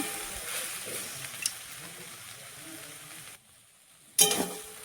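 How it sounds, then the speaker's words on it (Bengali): Soybean chunks fry in a pan with a steady sizzle, a short scraping stir near the start, then the sizzle drops briefly before a louder burst of crackling near the end. "সোয়াবিনটা ভাজা হয়ে গেছে হলুদ নিমখ ছাড়াই ভেজেছি"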